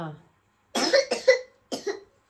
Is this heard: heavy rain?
no